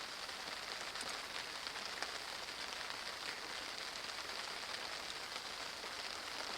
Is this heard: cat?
no